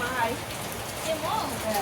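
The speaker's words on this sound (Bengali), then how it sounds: "তোকে স্নান করছিস বৃষ্টিতে" Rain falls outside in a steady, even hiss of drops on surfaces, moderately faint and continuous, with a few soft chirps from a pet cockatiel rising above it.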